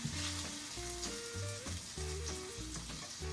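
A second batch of food sizzles in a very hot pan, a steady, quiet crackle and hiss running under a soft musical background, with no one talking.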